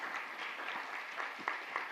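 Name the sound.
audience applause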